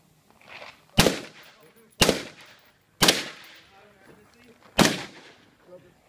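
Rifle shots ring out during tactical move-and-shoot training, four loud, evenly spaced cracks about a second apart with echoing tails and quieter movement and voices between them.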